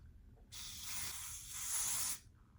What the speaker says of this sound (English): I had to spray a little bit of glue right here